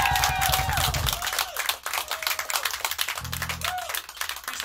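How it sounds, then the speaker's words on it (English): Audience applause and clapping at a live rock concert at The Delancey, a steady wash of hands with shouts and whoops mixed in, fairly loud and close. "Give a round of applause for Joey."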